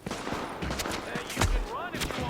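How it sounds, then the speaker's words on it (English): Gunfire bursts at the player in Tom Clancy's The Division, a rattling fusillade of shots with sharp cracks, loud and close, running over a muffled game background with a brief whistling sweep near the end. "Oh my god, someone's shooting me."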